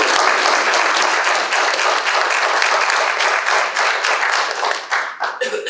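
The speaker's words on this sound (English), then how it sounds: "I would like to give all of those who have served a little round of applause" Audience at a State of the City address applauds for military veterans, a loud sustained burst of many hands clapping that thins out near the end.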